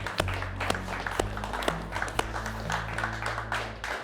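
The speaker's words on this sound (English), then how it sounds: "Give them a round of applause." A modest crowd applauds the tied champions of a 2017 kayak bass fishing tournament at Bienville Plantation, scattered sharp claps over a low, steady hum, fairly quiet and thinning out near the end.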